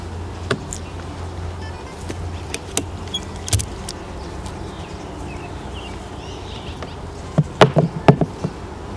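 Honeybees buzz steadily around an open hive during an inspection in Northern Nevada, a close, continuous drone with scattered sharp clicks and knocks of hive parts, growing busier toward the end.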